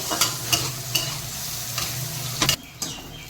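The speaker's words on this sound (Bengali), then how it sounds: "এই মাশরুমগুলোকে একটু নেড়ে চেড়ে ভাজতে হবে" Mushrooms fried with salt and turmeric in a pan, a steady sizzle broken by repeated sharp scraping strokes of a spatula, close and clear, ending with a few louder clanks and a quieter stretch.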